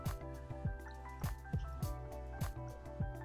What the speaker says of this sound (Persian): بعدش ما 6 سیل آب گریپفروت تازه استفاده میکنیم